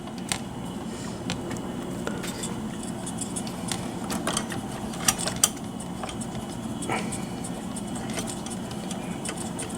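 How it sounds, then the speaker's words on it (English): A cassette player's motor is turned by hand, making a faint mechanical whir with scattered small clicks and ticks over a low, steady background hum. "All I have to do is spin the motor by hand."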